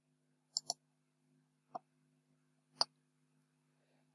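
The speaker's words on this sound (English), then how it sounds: "So click on this update button." A computer mouse clicks on an on-screen update button: a quick double click, then two single clicks spaced about a second apart, crisp and close against near silence with a faint steady hum.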